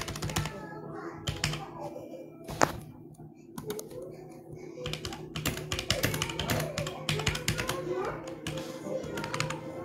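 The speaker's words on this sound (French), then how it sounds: "le téléphone il est entre moi et le clavier, c'est compliqué à écrire" Rapid, irregular clicking of computer keys, close by, continuing throughout with a few louder thunks and a faint hum underneath.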